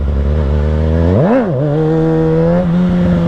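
A 636 stunt motorcycle engine drones steadily, then revs sharply up and back down as the rider hits the handbrake for a wheelie, settling into a higher sustained tone, close and loud.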